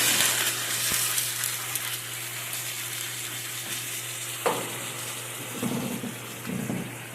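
Tomato sauce sizzles and hisses in a hot pan for shrimp creole, a steady bright frying noise with a few soft knocks and clatters as the pan is tossed.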